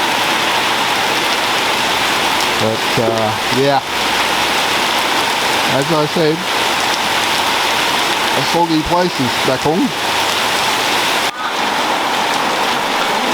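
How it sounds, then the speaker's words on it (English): Steady rain falls on a shed built of steel, wood and tiles, a constant hiss of drops that runs the whole time beneath intermittent conversation from people nearby. "Well, the rain's back, but not as heavy as it was at 5 o'clock this morning."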